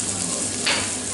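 Onion sizzles with beef in a stew pot, a brief steady hiss of frying with a soft stirring swell midway.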